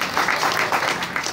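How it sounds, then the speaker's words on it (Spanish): A short burst of audience applause for an artist who drew fanzine graphics: a brief patter of clapping from a small crowd, lasting about a second. "Un aplauso para Yosli,"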